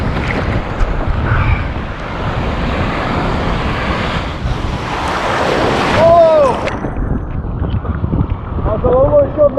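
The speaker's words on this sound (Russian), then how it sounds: "А за волной еще одна волна." Stormy sea surf on a shallow beach at Anapa pounds and roars continuously under strong wind buffeting the microphone, loud and close, with a voice briefly heard over the noise.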